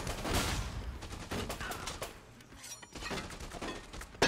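Gunfire in the zombie game Dead Rising 2 as attackers shoot at the player: a fairly faint, choppy run of rapid shots and bursts, with a short lull midway before firing picks up again.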